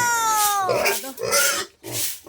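Pigs squeal loudly up close in a farmyard, one long rising-and-falling squeal followed by shorter grunting squeals, with brief pauses between bursts.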